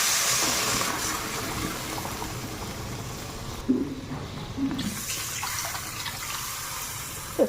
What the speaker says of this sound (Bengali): তো জলটা দিয়ে দেবো।